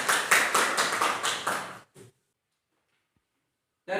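A group of students in a civics class claps briefly, about two seconds of brisk, rhythmic applause that stops abruptly, followed by silence and a short burst of sound at the end.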